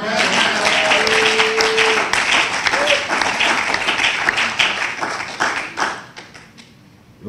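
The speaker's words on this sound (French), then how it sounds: "Nous acclamons pour ceux qui ont signé" An audience at a Christian ministry meeting in Brazzaville claps and applauds together, a dense, loud burst of hand claps that slowly thins and fades out toward the end, with voices mixed in.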